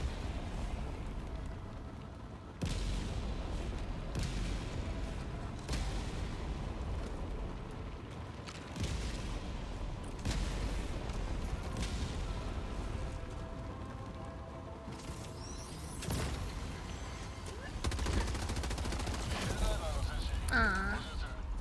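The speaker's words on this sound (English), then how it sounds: "There's just something about dropping 2 orbital barrages on a single area." Two orbital barrages striking one area in a sci-fi shooter game: a long, faint run of repeated heavy impacts and crackling blasts, with bursts landing every few seconds over a steady rumbling bed and a few louder hits near the end.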